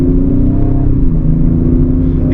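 A 2025 Ford Explorer ST's engine hums in a loud, steady low drone as it shifts up through the gears, with little change in pitch and no voices.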